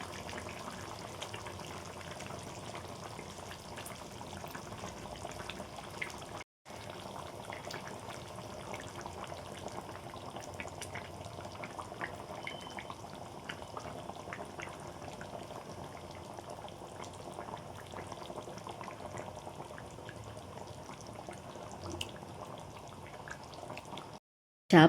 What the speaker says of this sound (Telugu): పులుసు మరిగాక ఇప్పుడైతే మనం చేప ముక్కలు అయితే వేసేసుకుందాము.